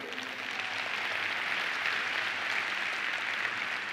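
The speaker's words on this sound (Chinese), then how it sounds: "我们给 FND 一个掌声" An audience at a leadership training event gives steady, even applause that fills the whole moment at a constant level, with no voices over it.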